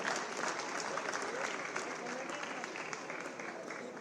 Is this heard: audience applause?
yes